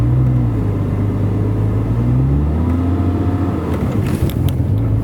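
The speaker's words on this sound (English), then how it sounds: "don't be afraid to push down on the accelerator more, and then slowly bring the clutch" A manual-transmission car's engine hums steadily, then revs up and accelerates as the clutch is slowly released, a close, continuous drone rising in pitch; no talk.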